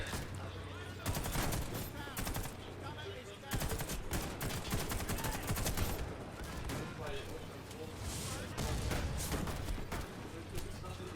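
Heavy machine gun fire in a first-person shooter video game, blasting in dense, sustained bursts over about eleven seconds with brief pauses between volleys, loud and close with talk underneath.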